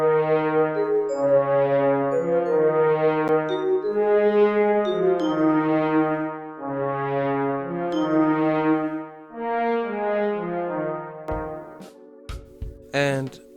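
Layered sampled instruments for a hip-hop beat: a mellow vibraphone part over sustained brass and flute pad chords, playing a repeating melodic phrase with a few sharp percussive hits near the end, no voices.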